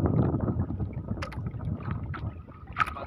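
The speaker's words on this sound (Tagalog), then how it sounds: "lumalakas na yung hangin" Strong wind buffets a small fishing boat out on open sea, a steady rushing roar with low rumble and water movement around the hull, continuous and fairly loud with brief gusty peaks.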